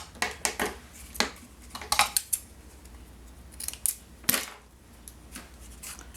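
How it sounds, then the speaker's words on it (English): Scissors trim ribbon for a paper craft project, with several close, crisp snips in quick irregular clusters. "So you can go ahead and trim your ribbon."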